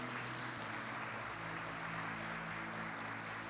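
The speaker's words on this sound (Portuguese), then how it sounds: "Dá uma salva de palmas se você concorda comigo" A church congregation at a family worship service applauding together, a dense continuous wash of clapping heard at a distance and fairly faint.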